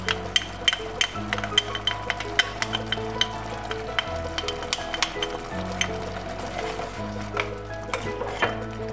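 Food fries in an electric tagine with a steady crackling sizzle, broken by frequent sharp clinks and scrapes of a utensil stirring against the pot, close and busy, with a low electrical hum beneath and no talking.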